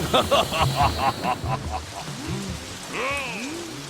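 Heavy rain falling steadily in a Thai comedy drama scene about a flood threat, a constant wash with rumbling beneath and a voice talking over it.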